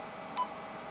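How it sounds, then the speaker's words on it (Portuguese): RP-80 equipment gives a faint function beep, a single very short tone rising briefly above a steady background hiss. "Não sei se deu para ouvir o bip baixinho."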